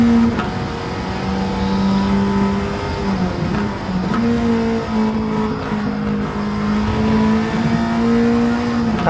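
A 2014 Alfa Romeo 4C racing around the Road Atlanta circuit in Gran Turismo 7: a loud, continuous engine drone rising and falling in pitch through gear changes, up close and alone.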